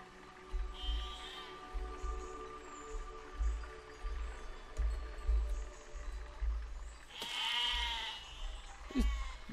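Sheep in the physics game Besiege bleat twice, with a sharp loud call near the end, over game clatter, thumps and a low rumbling background.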